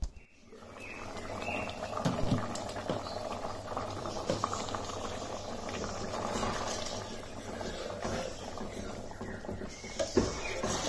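Aloo matar curry of potatoes and peas in about four cups of water simmers in a covered pot, giving a quiet, continuous bubbling and light pattering throughout, with no talk.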